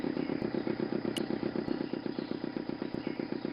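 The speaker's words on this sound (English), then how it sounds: "The motor spluttered into life." A petrol generator motor in the video game Broken Sword II runs with a steady, rapid chugging pulse and light clatter, holding an even loudness throughout with no voices.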